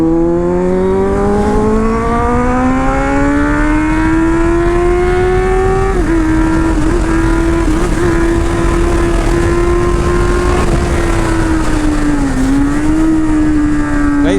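Kawasaki Z800 motorcycle engine, loud and close, climbing steadily in pitch as it revs while riding, then holding a sustained high drone with slight dips.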